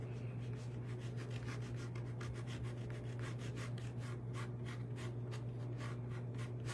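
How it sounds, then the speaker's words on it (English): Finger rubbing a rubber stamp to condition it, producing a continuous rhythmic scratchy rubbing in quick repeated strokes, close but quiet over a steady low hum. "I'm going to rub it with my finger to kind of condition it a little bit"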